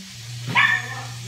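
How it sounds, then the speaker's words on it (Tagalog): A single short dog bark, fairly close, over a steady low hum in the background. "Makulit yung aso natin si Lucky."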